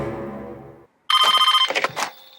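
Telephone ringing in the 1996 film Scream, a shrill electronic trill in a few quick bursts following a brief silence, after a low murmur of film sound at the start.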